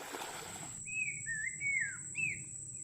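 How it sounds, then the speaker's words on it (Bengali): A shibbhoj bird in the Sundarbans forest gives a few clear, whistled chirping calls in quick succession against a quiet background, after a brief rustle. "শিবভজ পাখির ডাক"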